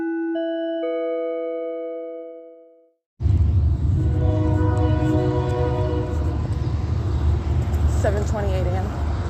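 Union Pacific train horn sounding a long sustained multi-tone chord, then a loud, close rumbling train pass with steady wheel and rail noise and a squeal near the end.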